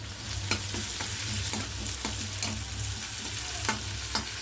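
Sliced onion and curry leaves sizzle in a frying pan, with a spatula scraping and stirring in regular strokes over a steady hiss.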